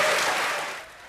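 An audience bursts into applause, a dense wash of clapping that starts loud and fades away within about a second.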